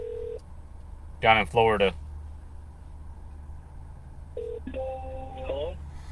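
Short electronic telephone keypad tones beep on a call line, first at the start and again later, with someone briefly speaking between them.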